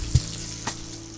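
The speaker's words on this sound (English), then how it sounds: "When you put these cold fries into the oil, it's obviously gonna cool the oil down." Cold blanched fries hit hot oil, producing a short burst of bubbling sizzle with a couple of sharp pops, close and fairly loud, lasting just over a second.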